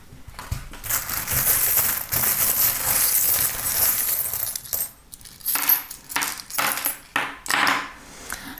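Small divination charms tossed and scattered during a daily card reading, giving a run of bright metallic clinks and rattles like dropped coins, dense at first then in separate short bursts, close and fairly loud with no talk.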